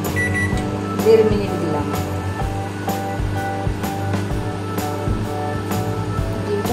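A microwave oven hums steadily and continuously while someone speaks over it in Bengali in a home kitchen.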